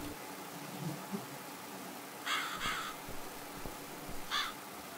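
Crow caws from The Cat Lady video game: a quick pair of harsh calls, a pause, then one more caw, heard over a quiet, hissy ambient background.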